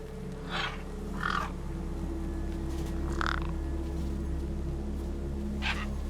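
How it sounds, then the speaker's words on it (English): Birds feasting in Beyond a Steel Sky let out a few scattered harsh caws and croaks over a steady low droning hum, with no talking. "No way I was going to get between those birds and their feast."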